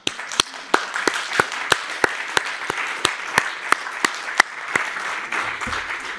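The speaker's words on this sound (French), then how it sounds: "je vais vous applaudir" A conference audience applauds, with one loud nearby clapper giving sharp, evenly spaced claps over a softer bed of general clapping that fades at the end.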